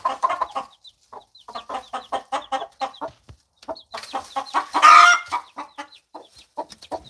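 Easter Egger or Araucana hens clucking in irregular bursts, close by, with a louder squawk partway through and brief quiet gaps between calls.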